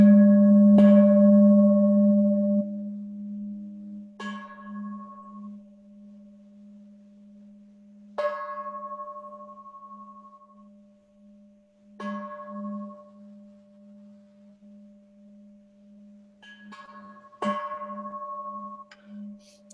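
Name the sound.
bell being struck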